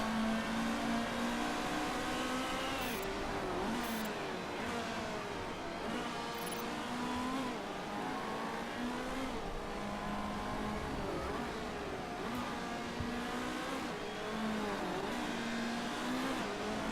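Race cars in the Motorsport Manager racing game hold a continuous engine drone with rising and falling revving pitch across the whole stretch, steady and moderately loud with no talking.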